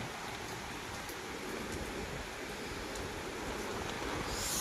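Steady heavy rain pouring down close by, water coming in toward a doorway, a continuous broadband hiss with no break and no voices.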